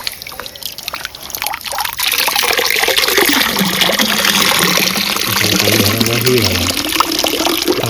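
Water pours out and runs downward while crabs are caught at night, a loud continuous splashing trickle that starts after a couple of seconds and continues strongly, with people talking over it.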